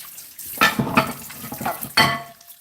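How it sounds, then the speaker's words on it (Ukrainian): Water splashes unevenly at a sink in a few irregular bursts, with wet rubbing and clatter as hands are washed under the running tap. "Зараз помию ручки."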